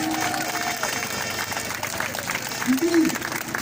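A crowd at a street demonstration in Toulon applauding and cheering for a speaker, steady dense clapping throughout with crowd noise and voices mixed in, swelling slightly near the end.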